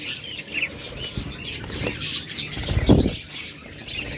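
Budgerigars of various colours chirping at a bird seller's, a busy flock of short tweets and chatter at moderate level, with a louder burst near the end.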